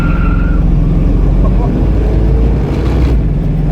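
A 1969 Ford Mustang Grande coupe revving and pulling away, its loud, throaty engine note rising and surging close by, with a person talking over the engine.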